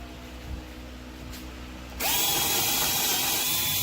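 Milwaukee M12 12-volt cordless drill with a 1/2-inch chuck, near and clear, switching on after a quiet pause and spinning steadily at its 1500 RPM drill speed in a high, even whine.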